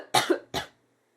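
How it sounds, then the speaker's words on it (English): Two separate coughs, close and fairly loud, from a person coughing after a breathing treatment, with no talking. "Always cough more after breathing treatment because it helps get rid of the mucus."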